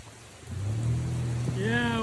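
Rain falls as a steady broadband hiss during a motorcycle ride, with a voice speaking over it.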